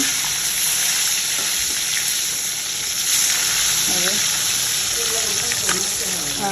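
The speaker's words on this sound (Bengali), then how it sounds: "চার পিস ভাজা রাখবো" Hilsa fish pieces fry in oil with a dense, continuous sizzle and crackle, close and fairly loud throughout, with a few faint background sounds of a household.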